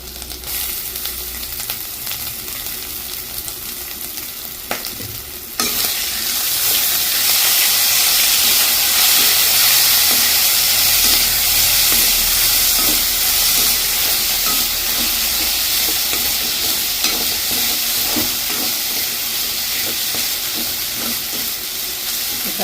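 Stingray pieces fry with sautéed onions in a pan, starting as a moderate sizzle that jumps to a loud, continuous hiss of frying and steam partway through and holds close and steady to the end.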